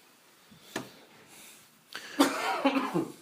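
A man with whooping cough coughs in a studio: a single sharp cough, then a longer harsh burst of several rough coughs with a raspy, strained quality.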